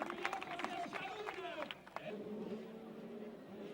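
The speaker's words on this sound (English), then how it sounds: "Big cheer from the crowd as Mascio takes the applause." A motocross race crowd cheers and applauds for a rider, a broad burst of distant clapping and shouts that fades after about two seconds, with a commentator talking over it.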